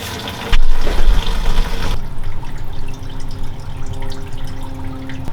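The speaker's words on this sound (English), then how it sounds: "I'm just gonna drain into these 5-gallon buckets" Gasoline pours from the fuel tank of an Evo 8 into 5-gallon buckets, a loud, close, gushing splash that starts suddenly and settles into a steadier trickling flow.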